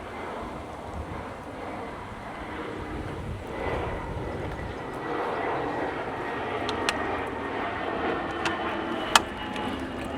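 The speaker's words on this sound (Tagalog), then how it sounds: "Kaya lagi may dumadaan na eroplano." An airplane near an airport roars overhead as a broad, steady rumble that swells and lingers, with a few sharp clicks and some talking nearby.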